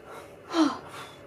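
A narrator's voice imitates a tiger panting out of breath, a single short breathy gasp that swells and fades in about a second, close and fairly quiet.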